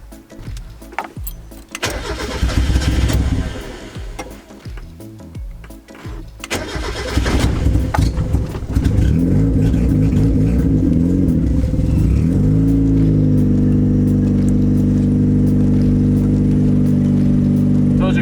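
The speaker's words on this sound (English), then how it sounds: "Cold starts are a bit rough." A Mazda Miata engine is cranked from cold through several loud bursts, then catches and settles into a steady, slightly uneven idle up close.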